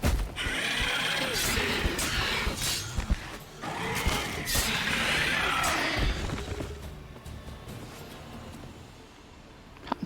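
A horse whinnies and snorts in a video game, with hoof clops and clattering effects over roughly ten seconds, fairly close and loud.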